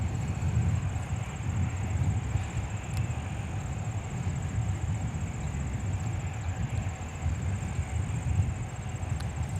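An American Airlines Boeing 737-800 jet departs Minneapolis–St. Paul airport, heard as a moderate, distant, continuous roar with a low rumble that stays fairly even throughout.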